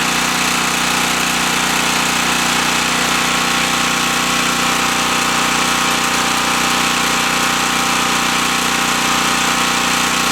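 A small Champion 1500 portable generator runs steadily under a light bulb load, a loud, constant engine drone with an even mechanical whine that holds unchanged throughout, with no talking.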